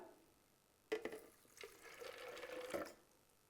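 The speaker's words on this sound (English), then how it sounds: "I will add some water." Water pours into a blender holding fresh maize, starting with a sudden splash and then running in a soft, steady stream for a couple of seconds before tapering off, quiet and without talk.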